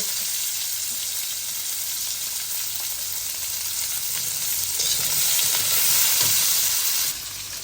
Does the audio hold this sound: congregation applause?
no